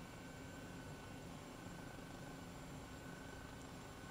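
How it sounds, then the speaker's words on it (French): A helicopter flying low through a mountain valley, its rotor and engine making a steady, dense roar with no breaks, loud and close. "On va se faire un petit peu de radada en hélico."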